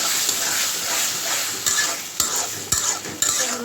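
Khichuri is stirred into fried spices in a pot, giving a loud, steady sizzle broken by several scraping stirs of a spoon against the pot.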